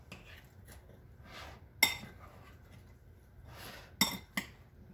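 Ambrosia stirred in a bowl with a spoon: soft scraping swishes broken by two sharp clinks of utensil against the dish, then a lighter tap, all fairly close.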